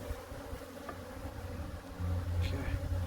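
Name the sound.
bees buzzing in a mating nuc hive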